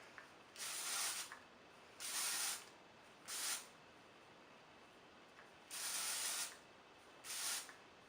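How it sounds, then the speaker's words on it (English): Redken Triple Dry texture spray is sprayed onto curly hair in five short aerosol hisses of about half a second to a second each, separated by quiet pauses, close and clear. "Then I'll go in with this texture spray by Redken."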